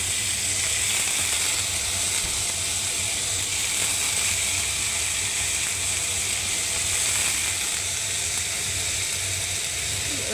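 Green peas and potatoes hit hot oil in a kadai and sizzle loudly, a dense, unbroken frying hiss that holds steady for about ten seconds.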